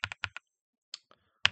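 Keys on a computer keyboard that is failing to register presses, tapped in a quick burst of four close clicks, then a pause and a few scattered single strokes, near and fairly quiet.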